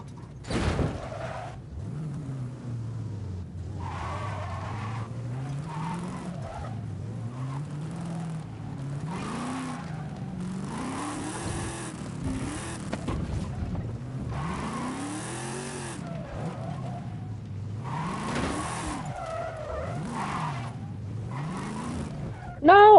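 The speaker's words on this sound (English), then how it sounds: "I feel like this is what like an old school monster truck could sound like." Video game vehicle with superchargers roaring like an old-school monster truck, engine pitch climbing and falling in repeated revving sweeps, tires squealing and skidding, loud and continuous with short breaks.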